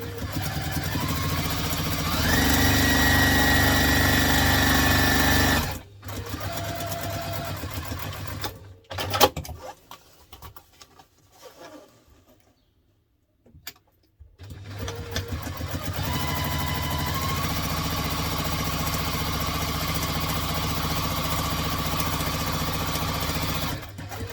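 A sewing machine stitches a laptop briefcase in steady motor-driven bursts, loud and close, with a pause and some handling noise in the middle before a long run of stitching resumes.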